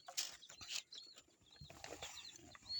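Young Elba chicks peep in short, high chirps, a few scattered calls rising over faint clucking and background noise, quiet and somewhat distant with no talking.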